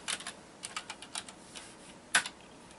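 Keys tapped on a computer keyboard to enter a text command in a fantasy adventure game: short clusters of crisp clicks at an uneven pace with brief pauses, close and moderately loud, one sharper keystroke near the end, no voices.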